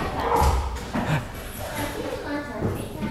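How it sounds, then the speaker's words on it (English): Several dogs in a home bark, yip and whimper excitedly as someone arrives, in short scattered bursts heard beneath a person talking steadily. "Somebody just came home and her dogs went a little wild there."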